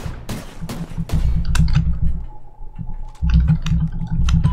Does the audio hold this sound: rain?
no